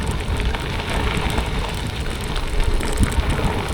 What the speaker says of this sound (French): Il se remet à pleuvoir.